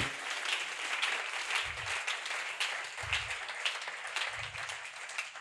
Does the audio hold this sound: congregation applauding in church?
yes